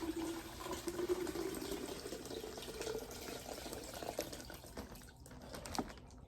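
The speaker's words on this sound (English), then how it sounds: "We're just going to pour." Water poured from a plastic bag into a 55-gallon home aquarium, a steady close splashing trickle running for several seconds and tapering off with a few drips near the end.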